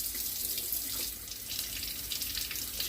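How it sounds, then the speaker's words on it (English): Tap water runs steadily over the root ball of a coleus cutting, a continuous close splashing stream at a sink, with no talking. "Try to rinse that debris out very gently."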